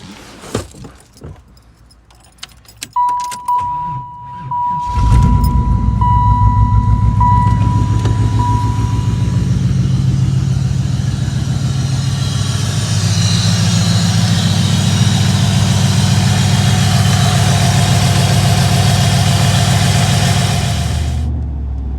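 Keys jingle briefly before a Camaro, recently fitted with a new OptiSpark, fires up, and its engine settles into a loud, steady, close-up drone that runs continuously to the end with no talk.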